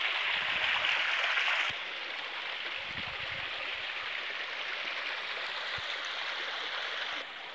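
Cold mountain spring water flowing in the forested hills of Haripur, Hazara, Pakistan, a steady close rushing and gurgling that is slightly louder at the start, with occasional soft knocks and no talk.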